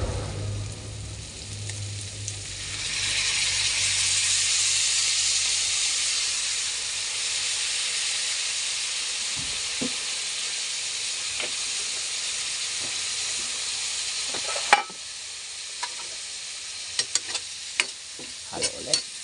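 Food frying in a pan with soy sauce being stirred, a steady loud sizzle and hiss for several seconds that fades, followed by scattered scraping clicks of the utensil against the pan.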